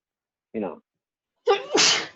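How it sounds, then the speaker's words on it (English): A brief intake gasp followed by one forceful, close sneeze, loud and sharp, with silence around it. "Sneeze so hard the camera tilted."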